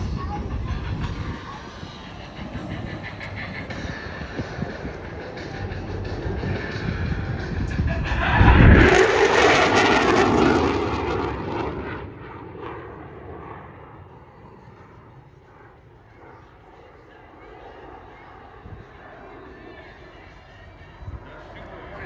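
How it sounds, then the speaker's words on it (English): An F/A-18 Super Hornet jet makes a high-speed pass at an airshow, a roar building to a sharp loud peak midway and then fading into a distant rumble, with an announcer talking over it. "Ladies and gentlemen, the Super Hornet and the high speed pass."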